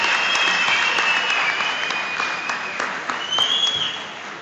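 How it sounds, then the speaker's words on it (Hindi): Steady applause from an audience at a train flag-off event for the Nizamuddin Express, dense clapping sustained throughout with a slight dip and swell, no talk over it. "बहुत जोर से तालियां बजाइए भाई"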